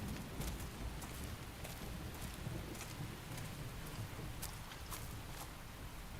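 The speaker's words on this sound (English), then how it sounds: "The rain's starting to let up, just in time for sunrise." Steady rain hisses in Xenoblade Chronicles X as the shower eases toward sunrise, a dense wash of drops with scattered brighter patters, continuous and moderately loud with no voices.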